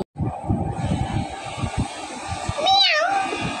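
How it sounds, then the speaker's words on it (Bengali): A cat gives a single rising-and-falling meow near the end, fairly clear, after a stretch of low rumbling background noise. "এটা বিড়ালের আওয়াজ না?"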